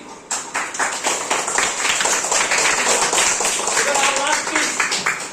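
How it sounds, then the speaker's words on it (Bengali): Students in a classroom break into a burst of clapping that fills the room, steady and fairly loud throughout, with children's voices mixed in underneath. "একটা হাততালি।"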